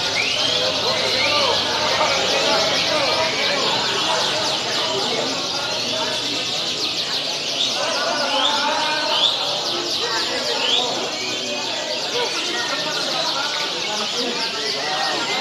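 Continuous bright canary song, trills and chirps filling the background at a songbird contest, steady and fairly close, with rapid twittering phrases repeating throughout.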